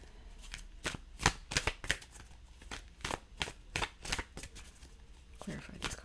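Tarot cards are shuffled close up as a rapid run of crisp riffling slaps and flutters, packed tightly at first and then spacing out. A quiet voice can be heard faintly underneath.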